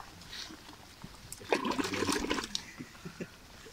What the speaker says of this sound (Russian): Помой вон в воде сзади.